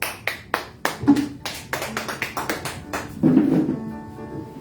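At a church service, several sharp claps ring out, followed by a burst of scattered clapping from the congregation, fairly close and lively.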